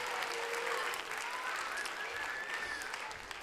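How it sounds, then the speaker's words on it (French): Sustained applause from an audience at the Geneva civic promotion ceremony, greeting the three contest winners; dense, steady clapping holds throughout at an even level, with no clear talk on top. "sous de nouveaux applaudissements, les 3 lauréats du concours"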